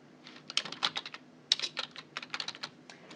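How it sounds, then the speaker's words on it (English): Computer keyboard typing while entering a month into an Excel calendar: a quick run of distinct key clicks with short pauses, close and fairly quiet, no voices. "This is where I can type the month."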